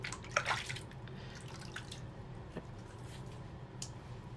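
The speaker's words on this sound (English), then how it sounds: "So let me rinse my face" Water splashes and drips softly as a face is rinsed after a shave with a Treet Platinum blade, faint wet squishes over a low steady background hum.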